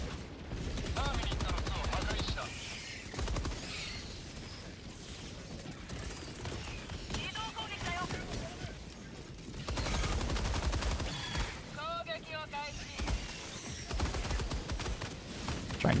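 Rapid automatic gunfire and repeated bursts of shooting in the video game Helldivers, loud and dense, with mechanical clatter and a voice talking over parts of it.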